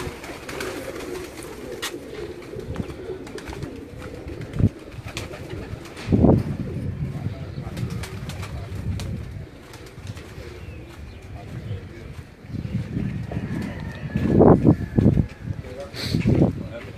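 Pigeons cooing on a rooftop, low throaty coos repeating in bursts amid fluttering wings and other bird calls, with someone talking intermittently nearby.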